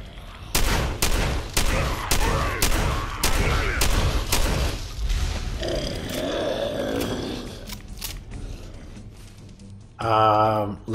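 Shotgun fire in a post-apocalyptic video game: a rapid series of loud, booming blasts at a steady rhythm, then a rougher growling stretch and a final burst of noise.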